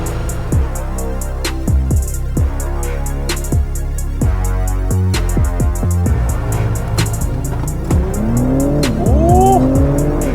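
A 2022 Acura TLX Type S or Genesis G70 3.3T Sport drives and accelerates hard, engine note rising through repeated gear changes, loud and close from inside, ending in a higher whining sweep.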